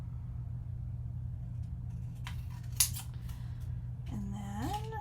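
Paper pieces being cut apart with scissors at a crafting table, a few short crisp snips standing out over a steady low hum of background rumble, with no talking.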